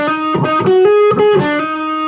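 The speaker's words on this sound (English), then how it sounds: "So far the whole phrase sounds like this." An electric guitar plays a short solo phrase with hammer-ons from a song, with a few plucked notes and a sustained bent tone in the middle, up close with no talking.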